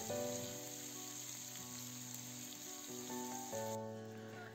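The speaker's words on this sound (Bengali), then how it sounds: "আলুগুলি খানিকটা ভাজা হয়ে গেলে আমরা এর মধ্যে লঙ্কা বাটাটা দিয়ে দেব" Chili paste, turmeric and salt fry with potatoes in a pan, giving a soft, steady crackling sizzle with a faint hum running under it throughout.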